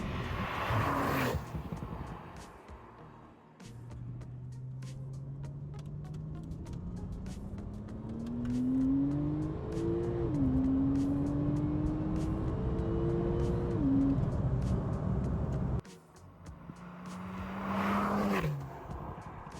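A Porsche 911 Turbo S engine revs repeatedly, a loud close roar rising in stepped pitch sweeps, dropping back, then a final short rev after a brief pause.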